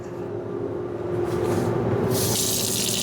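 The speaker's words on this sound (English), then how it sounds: "You're gonna fill it about 2/3 of the way with tap water" Cold tap water pours steadily into a bottle, a close continuous hiss that grows louder and brighter partway through as the flow strengthens.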